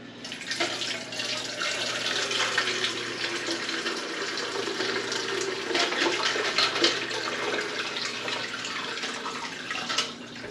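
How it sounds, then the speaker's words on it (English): Ice water pours through a strainer in a continuous splashing, trickling stream that runs for about ten seconds, close and fairly loud with no talking. "So I'm gonna try to pour this in without getting in any of the ice. I'm gonna use a strainer to do so."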